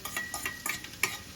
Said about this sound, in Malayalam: നമുക്കിതിൽ കോവയ്ക്ക ഇടാം.